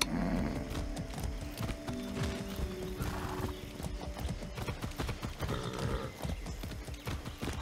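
Rapid clip-clop of hooves keeps a steady galloping rhythm in the video game Far Cry 6, with a horse's whinny and faint mechanical clatter mixed in, fairly close and continuous.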